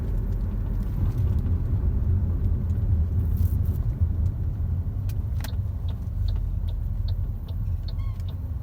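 A 2021 Ford Territory driving along, with a steady low road rumble and engine drone throughout, plus faint light rattles from the rear; no talking.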